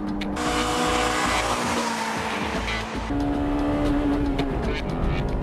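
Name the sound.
Honda Civic Type-R engine accelerating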